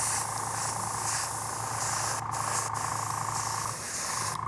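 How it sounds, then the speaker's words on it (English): Aerosol spray paint hissing steadily onto a Fallout Pip-Boy 2000 Mk VI prop, a loud, close, continuous spray with a few brief breaks. "let's spray it and see what it looks like."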